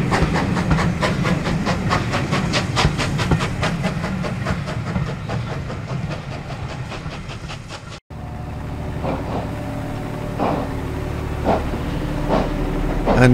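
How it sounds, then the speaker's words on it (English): Steam locomotive 41312 pulls away at the West Somerset Railway autumn gala with loud rhythmic exhaust chuffs and clanking wheels, then a sudden cut leads to quieter, more distant chuffing and clicking over the rails. "41312 gets smoothly away and disappears in the direction ultimately of Bishop's Lydiard"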